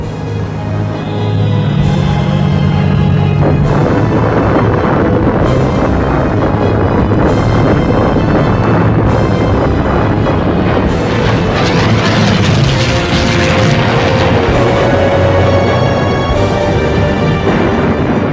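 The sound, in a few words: bombing explosions and aircraft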